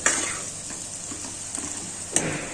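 Gram flour sautéing in a pan for fenugreek curry, giving a steady close sizzle with faint stirring scrapes throughout and a brief clink near the end; no voices.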